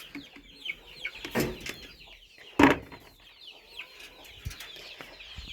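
Cochin chickens in a new outdoor enclosure cluck and call intermittently at close range, with scattered short rustles, a few louder squawks and a brief flutter among the birds.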